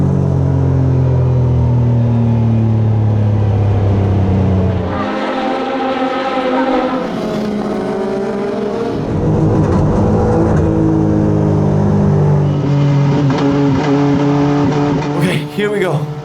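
A video-game Legend race car engine revs hard on full throttle, then drops off and climbs again in on-off bursts, a loud buzzing drone with shifting pitch while someone talks over it.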